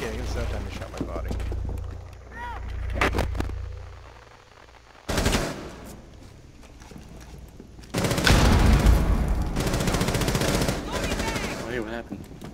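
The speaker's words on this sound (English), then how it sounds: "I keep getting shot in the head with the gun" Gunfire rings out in a Rainbow Six Siege team deathmatch on the Bank map, sharp rapid automatic bursts close by, loudest in a long volley near the end, with players talking over it.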